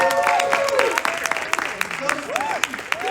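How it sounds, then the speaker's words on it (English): A cinema audience at a film screening in London claps steadily in a crowded room, with cheers and whooping voices rising over the applause throughout. "Give me a round of applause"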